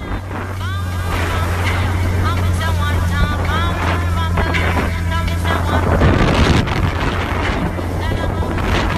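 A motorboat engine drones steadily while wind buffets the microphone, with chirping birds and voices talking over the motor.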